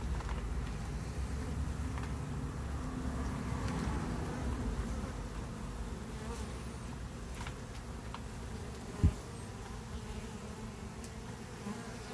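A dense swarm of bees hums continuously during a bee removal, a steady close buzzing drone filling the whole stretch, with one brief knock near the end and no voices.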